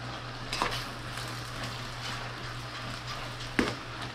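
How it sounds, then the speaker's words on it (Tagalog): A spoon stirs chili-powder-seasoned food in a pan, a soft steady scraping over a low sizzle, with two sharper utensil knocks standing out near the start and end. "Ating haluin."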